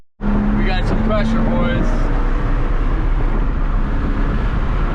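Porsche 911 996 flat-six engine droning steadily while driving after an oil pan installation, a loud continuous rumble with rising tonal whine early on, under a man's brief speech.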